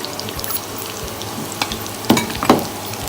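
Flattened rice (poha) is rinsed in water to clear the dust, giving soft swishing that builds to a couple of louder, close splashy sloshes near the end, with no voices.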